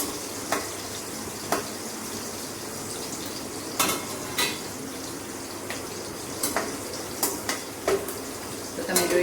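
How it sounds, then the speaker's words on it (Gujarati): Green chillies fry slowly over a low flame in tempering oil, giving a steady quiet sizzle with soft crackles and occasional sharp clinks of a spoon stirring the pan, with no talk over it. "તો તમે જોઈ શકો છો કે આપણા મરચાં અંદર વ્યવસ્થિત ફ્રાય થઈ ગયા છે."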